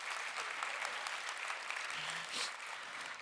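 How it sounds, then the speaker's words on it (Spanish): Church congregation applauding to give thanks to God, a dense, even burst of clapping from many people filling the room for a few seconds, with a brief faint voice underneath. "otro aplauso a nuestro buen Dios"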